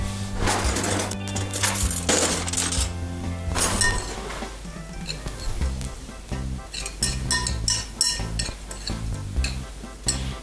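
A spoon stirs raisins, powdered sugar and vanillin into a mixture in a bowl, giving near, continuous clinking and scraping against the sides with an uneven rhythm and no speech.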